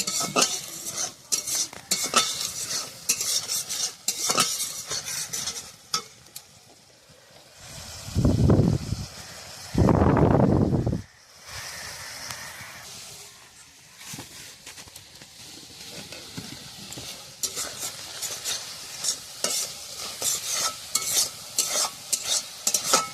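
Ground spice paste cooking with water in a pan over a wood-fired clay stove: a close, steady sizzle broken by repeated scraping strokes of stirring, with two louder bursts midway.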